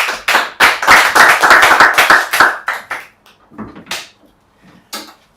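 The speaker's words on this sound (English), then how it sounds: "It's good you applaud now before I upload the homework." A small class in a quantum mechanics exercise session applauds after a student presentation, with a burst of close, sharp hand claps for about three seconds that thins out to a few scattered claps.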